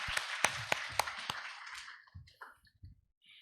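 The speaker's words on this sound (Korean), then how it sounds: "이상준 대표님께 뜨거운 박수를 부탁드리겠습니다" A few sparse, sharp claps from a small audience after a health-food forum lecture, five distinct hand claps fading into quiet rustling and scattered soft taps.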